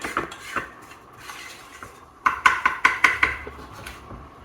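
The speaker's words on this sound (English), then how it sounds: "So this is the roux I am making, which I will be using for this dumpling" A metal utensil stirs a butter and all-purpose flour roux in a pan, producing soft scraping and then a run of sharp, rhythmic clinks against the pan, close and with no talking.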